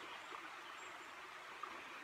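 Quiet, steady rush of a river flowing beside Reinhardstein castle in Belgium, a faint continuous watery hiss heard from a short distance with no talk.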